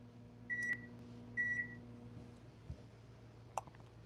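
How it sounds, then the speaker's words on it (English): A microwave oven hums steadily in a home kitchen while water boils in a cup, with a low constant drone, two short beeps early on, and a few clicks and clunks later. "put it in the microwave."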